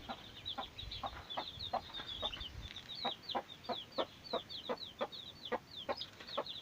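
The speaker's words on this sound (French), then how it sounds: "Donc là, c'est la première sortie des poussins." White Silkie chicks on their first outing peep in a steady run of short, high, bright chirps, close and fairly clear over a soft outdoor background.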